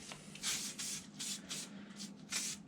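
WD-40 spray aimed at a motorcycle fork seal during a Yamaha R6 fork service, heard as four or five short, close hissing bursts of aerosol separated by brief pauses.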